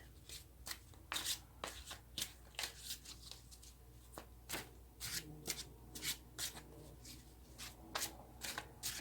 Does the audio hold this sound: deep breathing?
no